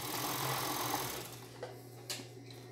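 A sewing machine runs steadily up close, stitching bias binding onto lace panties, with a continuous mechanical hum that eases near the end, broken by a couple of small clicks.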